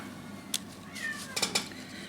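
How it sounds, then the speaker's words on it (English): A house cat howling in the background of a room, faint drawn-out meowing cries with a few sharp clinks and knocks nearby, distant and quiet. "that in the background is Fifi the cat howling"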